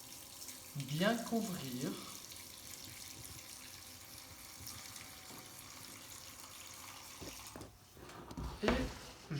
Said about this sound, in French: J'ajoute de l'eau froide,